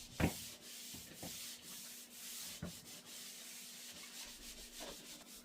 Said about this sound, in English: This buffs down any imperfections that you have when you're scraping